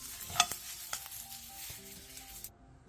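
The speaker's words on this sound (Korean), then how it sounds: "불린 목이버섯도 소금을 넣고 중약불에서 3분 정도 볶아주세요." Soaked wood ear mushrooms stir-fried with salt in a pan over medium-low heat, giving a soft sizzle with a few spatula scrapes and taps, close and fairly quiet, ending abruptly.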